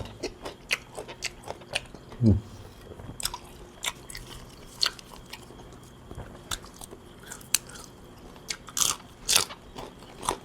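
Close, wet biting and chewing of steamed meatballs dipped in a sticky sweet sauce, with irregular crunchy bites and smacking, no talking.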